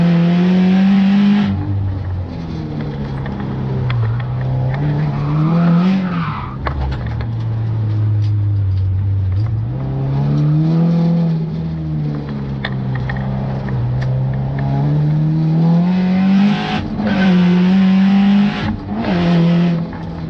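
A rear-wheel-drive Subaru time attack car making 317 wheel horsepower slides sideways, its engine revving and dipping through corners with tire squeal, loud and close for about twenty seconds, no talking.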